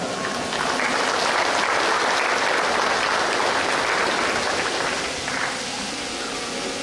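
Sustained applause from a crowd gathered at Mario Diego Nicolás's birthday celebration, a dense, steady wash of many hands clapping together that holds for several seconds at full strength before easing slightly near the end.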